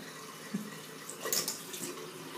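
Water runs from a tap for rinsing after shaving, a soft, fairly faint splashing flow with small bursts of spatter as hands or a face are rinsed.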